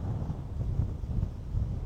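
Wind blowing outdoors around a mini caravan, heard as a steady low rumble of gusts buffeting the microphone, fairly faint, with no voices.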